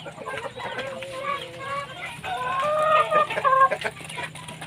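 Free-range chickens, including Black Australorp and Red Shamo hens, cluck and chatter continuously at close range, with overlapping calls rising in loudness and a few sharper squawks near the end.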